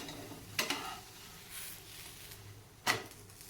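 A besan pancake cooks quietly in a pan, faint low sizzling punctuated by two brief scraping clatters of a spatula checking the underside.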